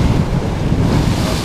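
Heavy sea swell breaks against the rocky Llyn peninsula coast in north Wales while strong wind buffets the microphone, producing a steady, loud roar throughout with no voices.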